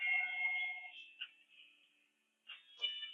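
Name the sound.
Fanvil V series VoIP phone ringing after dialing an extension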